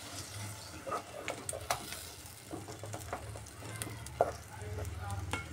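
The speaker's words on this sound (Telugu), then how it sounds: "బాగా ఒకసారి మిక్స్ చేసుకొని బాగా" Potato curry frying and being mixed in a pan, a soft steady sizzle with scattered scraping and stirring ticks, fairly quiet and close.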